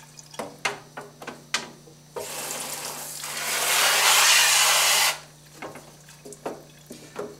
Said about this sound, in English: bring your stencil over to the sink and simply wet the silkscreen all over, both sides